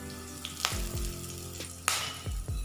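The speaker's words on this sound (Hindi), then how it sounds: "ऑयल गर्म हो चुका है। अब हम इसमें सबसे पहले जीरा डालेंगे" Cumin seeds and curry leaves crackle and sizzle in hot oil in a pan, a steady close frying hiss broken by sharp pops and stirring clinks, with no voices.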